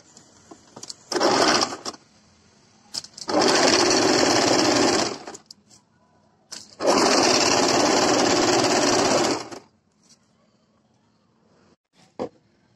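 A sewing machine attaches lace to the front of a kurti in three close, loud bursts of steady stitching, the last two long, with quiet pauses and small clicks between them.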